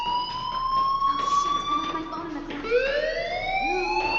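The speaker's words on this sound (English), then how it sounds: "do you hear that fire alarm?" A fire alarm in a video game wails as a loud, close electronic siren with rising and falling tonal sweeps, sounding continuously throughout.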